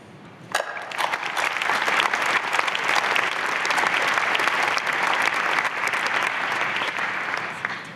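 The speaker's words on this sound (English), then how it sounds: "So I think you deserve a big applause for what has been achieved." An audience at the ILC 2017 opening ceremony breaks into applause after a brief quiet moment. The clapping is full, dense and steady, holding strong before easing slightly at the end, with no voices over it.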